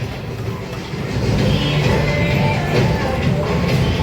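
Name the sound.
children's toy ride train running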